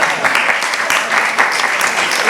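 Audience members at a talk on art and AI in Paris break into lively applause, quick overlapping claps that are loud and close, with a hint of voices mixed in.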